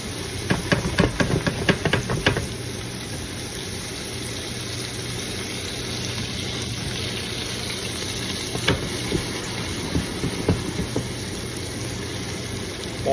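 Vegetables frying in a pan before meat is added, a continuous close sizzle and hiss broken by a few sharp clinks of stirring near the start and again later.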